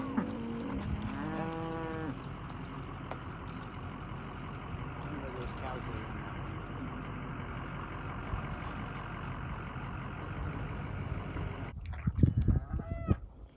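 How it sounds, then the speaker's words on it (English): Cows moo in a field during a ride out to check on the herd, a few long, low calls near the start and again at the end over a steady vehicle rumble. "we just rode through some cows, checking the cows."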